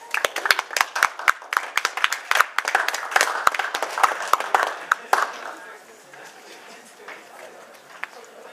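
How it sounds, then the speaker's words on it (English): Audience applause after a college education debate speech: a small group clapping briskly and fairly near for about five seconds, then thinning to scattered claps and faint room noise. "let's give them a round of applause"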